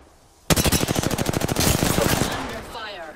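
A long rapid burst of automatic gunfire in the shooter game Apex Legends, loud and close, with evenly spaced shots rattling for about a second before a ringing, echoing tail.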